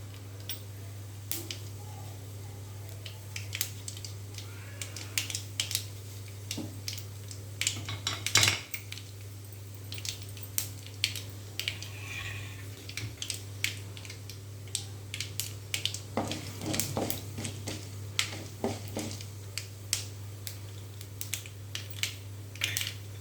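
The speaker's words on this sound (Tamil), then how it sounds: "கடுகு பொரிக்கட்டும்." Scattered sharp crackles and pops over a steady low hum, irregular and fairly quiet, as mustard seeds with urad dal and chana dal splutter in hot oil.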